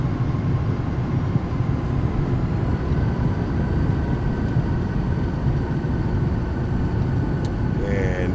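Thrust reversers on a Citation Sovereign+ landing in MSFS2024 hold a loud, steady jet roar throughout, a broad unbroken rumble with no breaks and no talk.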